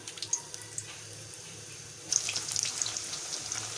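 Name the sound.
puri dough frying in hot ghee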